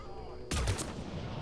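A single loud gunshot crack in Mass Effect 3 landing as a headshot, sharp broadband burst followed by a short low rumble and tail, with no talking over it.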